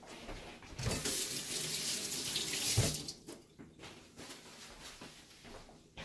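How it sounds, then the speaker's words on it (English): A kitchen tap runs water over hands for a couple of seconds, a bright steady rush that stops abruptly, followed by softer splashes and drips. "I had to wash my hands because I had eggs all over them"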